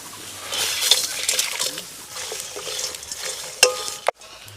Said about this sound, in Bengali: গোটা জিরে একসাথে শুকনো কড়ায় ভেজে নেব